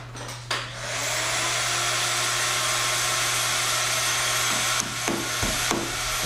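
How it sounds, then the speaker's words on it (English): A steady, loud broadband whoosh of a vacuum cleaner runs almost continuously, with a low hum beneath and a few brief knocks near the end. "Don't mind the vacuum cleaner in the background."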